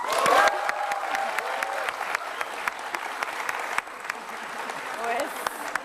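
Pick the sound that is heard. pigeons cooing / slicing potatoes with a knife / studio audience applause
studio audience applause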